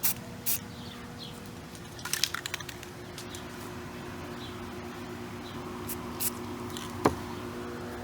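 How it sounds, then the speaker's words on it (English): A spray paint nozzle pressed very lightly spits red paint onto a mushroom painting, giving a few short, faint sputtering hisses scattered over quiet background hum, with one sharper spurt near the end. "I'll just very lightly push on the nozzle to create a spitting"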